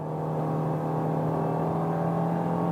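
Fiat Cronos 1.3 with CVT gearbox pulling at full throttle up a highway grade, a steady droning engine hum with constant pitch and loud, even level throughout, no talk.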